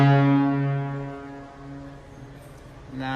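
St. Louis Blues hockey goal horn at a watch party, one long, loud, deep blast that fades over a few seconds before a second blast starts near the end.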